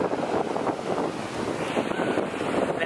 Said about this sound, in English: it gets annoying with the wind